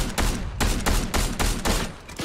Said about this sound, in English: I'm getting sniped from somewhere else